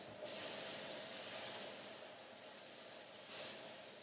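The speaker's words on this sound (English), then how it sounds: "you can hear the sizzle in the pan, yeah?" Salmon fillets sizzle in a hot pan with a soft, steady hiss, heard close but quiet, with slight swells in intensity.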